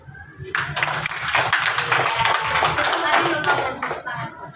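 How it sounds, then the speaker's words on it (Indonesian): A classroom group claps hands together during a lesson, beginning after a brief pause with loud, close, ragged claps that hold steady before thinning out, while voices are heard faintly beneath. "Tepuk tangan"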